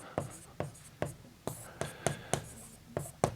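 Chalk or marker tapping and stroking on a board during a Class 12 three-dimensional geometry lesson, with a steady series of about ten short, crisp strokes at a regular rhythm and a faint voice in the background.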